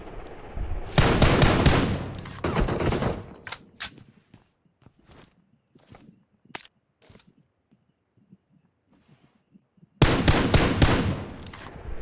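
Gunfire in PUBG Mobile while shooting at an enemy: dense automatic bursts at the start and end, with scattered single shots and quieter game sounds in between.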